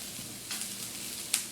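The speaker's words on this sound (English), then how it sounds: "Onions and garlic are nice and cooked." Chopped onions and garlic frying in a pan, a soft, steady sizzle heard close up with a couple of faint clinks, quiet and continuous throughout.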